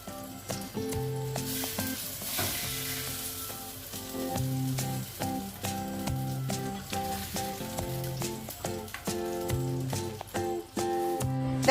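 Fried tomatoes laid onto fish molee simmering in a pan, a steady close sizzle and crackle with scattered sharp pops and soft clinks of placing the pieces, continuing without talk.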